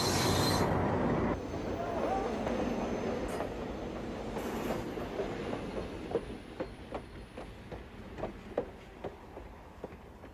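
A train rumbles closer on the rails, a steady roar giving way to a quickening series of rhythmic wheel clacks as it nears.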